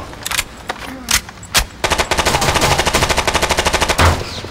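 Scar Heavy rifle chambered in NATO .308 firing in Rainbow Six Vegas 2: a few separate loud shots, then a long rapid burst of evenly spaced reports and a final heavy shot, close and dominant.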